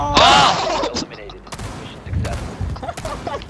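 A short burst of gunfire erupts in Rainbow Six Siege during online play, sharp and loud at the start, then smaller shots and clatter follow under excited voices.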